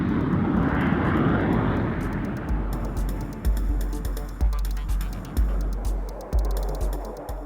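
F-105 Thunderchief supersonic jet fighter-bomber engine roaring loud and steady, then rumbling with a series of rhythmic low thumps and crackles toward the end.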